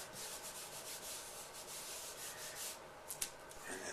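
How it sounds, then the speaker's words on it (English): A hand rubs vinyl letters onto a wall in a steady, soft, continuous friction hiss, close and quiet, with a couple of faint scuffs near the end and no voices. "And rub with your hand right on the letters works the best."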